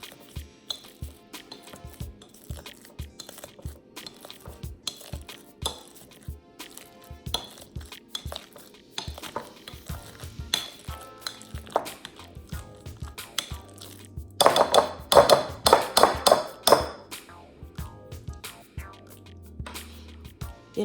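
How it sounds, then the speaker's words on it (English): Overripe bananas mashed with a potato masher in a bowl: steady soft squishing thumps repeat in a rhythm, with clinking of metal on the bowl and a brief busier stretch of rattling. "First, I'm going to start by mashing up 3 bananas. You can use a fork, but I choose to use a potato masher."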